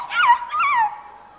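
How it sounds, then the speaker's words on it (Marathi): A dog whimpers in two drawn-out, rising then falling whines close by, the second trailing off into quiet; no one speaks. "कुत्री कुणी आत सोडली?"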